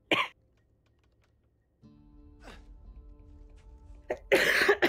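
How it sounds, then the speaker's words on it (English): A streamer coughs once sharply near the microphone, then after a quiet stretch gives a softer throat-clearing cough over faint background hum, ending with a louder burst of noise. "Cough ASMR, let's go."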